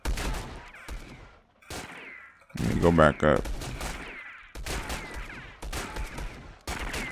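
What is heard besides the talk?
gunshots in the Roblox video game Bandit Simulator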